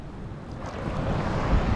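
Surf rolls onto White Sand Beach near Bang Sak in Thailand, a continuous low wash of waves with wind rumbling across the microphone on a quiet day, and no voices.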